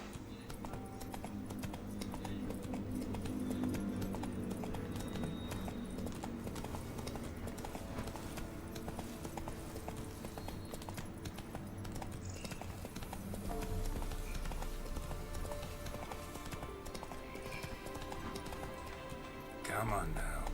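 Roach, a horse in The Witcher 3, clip-clops along at a steady walking rhythm, hoofbeats close and even over continuous game music and ambience.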